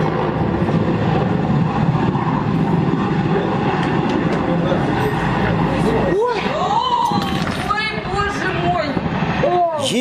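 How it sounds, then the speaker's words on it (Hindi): A military helicopter loses balance while landing on a Canadian seaside beach and crashes, its loud rotor and engine roar continuous before a heavy impact, followed by scattered crashing debris and frightened shouting nearby. "इस वीडियो में एक हेलीकॉप्टर लैंड कर रहा होता है, जिसका बैलेंस खराब होता है और ये मौके पर तबाह हो जाता है।"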